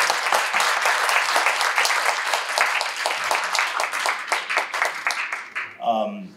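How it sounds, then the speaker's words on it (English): A church congregation at an English-language service applauds new ministry members, dense clapping that thins into scattered claps before a voice speaks at the end. "If we could give them a round of applause."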